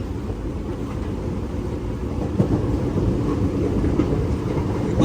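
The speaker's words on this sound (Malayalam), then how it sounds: "ട്രെയിൻ പോകുന്ന സ്പീഡ് 86 കിലോമീറ്റർ. 90 തന്നെയാണ് പോകുന്നത്." The Guruvayur to Thrissur Express runs at about 90 km/h, heard from on board as a loud, steady rumbling roar with continuous rattling wheel noise and faint clacks.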